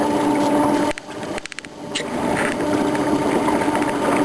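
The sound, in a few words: beta electric paddle motor running on a boat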